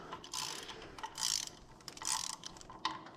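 A 3/8 ratchet backing out a cylinder head bolt on a John Deere 4840 tractor during an engine overhaul, close rhythmic clicking strokes repeated in several quick bursts, with no talk.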